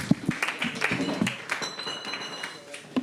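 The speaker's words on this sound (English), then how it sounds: "And a round of applause." Scattered applause and a few sharp claps in a room at a privacy R&D event, with speech and a high ringing tone mixed in as the clapping thins out.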